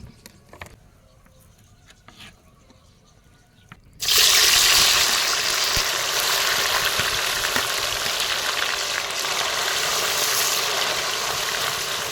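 Medium-sized cubes of paneer frying in hot oil in a pan until golden, a dense steady sizzle that starts abruptly and holds loud and even throughout, with faint clinks before it begins.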